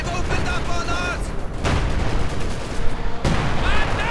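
Gunfire erupts on a World War II battlefield in the strategy game Company of Heroes 2, with booming shots and rattling bursts over a noisy rumble, while a commentator talks over it.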